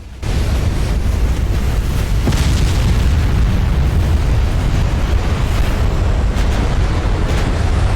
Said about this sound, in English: magazine explosion on the Brandenburg, and I'm pretty sure that's the end of her